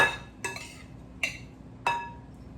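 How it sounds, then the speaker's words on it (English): Black lentil caviar spooned onto a plate, heard as three or four light clinks of a spoon against the dish, spaced apart and fairly close, with no voices. "let me spoon this in and show you"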